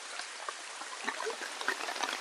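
Heavy rain drums steadily on a tarpaulin sheet over a forest camp, a dense close hiss scattered with sharper drop taps, no voices.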